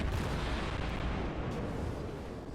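A heavy volley of enemy ship gunfire from World of Warships lands as a dense, rumbling burst of booming impacts that roll together and slowly fade, loud and close, with no voices.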